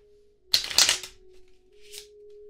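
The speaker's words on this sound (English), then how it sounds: "We'll cut the deck here and here. Give it a shuffle." A deck of playing cards riffled in one quick close shuffle burst, then a softer riffle a moment later, with a steady low hum underneath and no talking.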